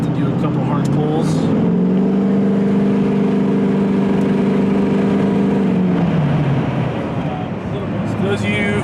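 A Duramax diesel pickup truck engine pulls hard, a loud steady drone that holds for several seconds and then winds down, with people talking over the cab noise.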